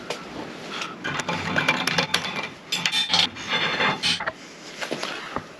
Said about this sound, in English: Now I can scratch the hole there so I know where I can put the initial welds on there.